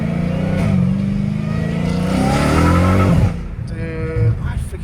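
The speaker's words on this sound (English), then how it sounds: "I freaking love this engine, bro" A catless Dodge Hellcat Redeye's supercharged engine revs loud and close, rising in pitch through a sustained pull before cutting off abruptly, then settling into a lower, rumbling idle with a short blip near the end.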